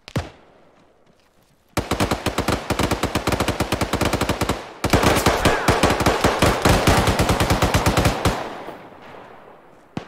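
Sustained automatic gunfire in a sci-fi military video game, loud rapid bursts of machine-gun fire running for several seconds with a brief pause, then fading out.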